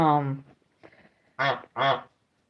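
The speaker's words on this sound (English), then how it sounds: "that is our house goose" A domestic house goose gives three loud, close honks, the first drawn out, then a weaker sound, then two short harsh calls close together, with no talking over them.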